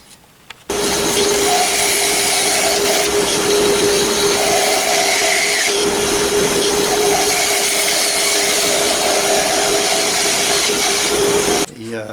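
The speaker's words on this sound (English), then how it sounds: "now I'm ready to bandsaw the circles" A bandsaw cuts circles from wood blanks meant for a hollow form on the lathe, a loud steady whine with a constant pitch running for about eleven seconds before stopping, with no talk over it.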